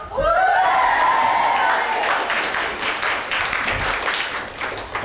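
Theatre audience at a junior operatic society staging of Oklahoma cheers and applauds loudly after a pause in an auction scene, a dense wash of claps and shouts with some laughter that fades slightly over five seconds.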